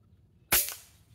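A single sharp air rifle shot while hunting squirrels outdoors, close and crisp, with a short decaying tail over faint background noise.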